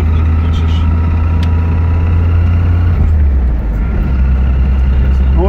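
A Lada Niva engine drones steadily at speed on a highway between Chernihiv and Kyiv, with a low hum that dips slightly as the car shifts into fourth gear. The engine is loud and continuous, with faint voices in the background.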